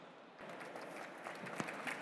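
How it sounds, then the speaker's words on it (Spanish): Applause from a conference audience at WordCamp Madrid 2023 for a speaker, a sustained quiet patter of many hands with a few sharper claps standing out, heard from a distance. "Un fuerte aplauso, por favor, para Diego."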